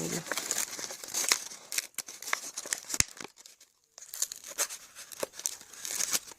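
Packing tape being torn and peeled off a tightly taped cardboard box, a run of crinkling rips and crackles at close range with a brief pause in the middle, with faint talk in the background.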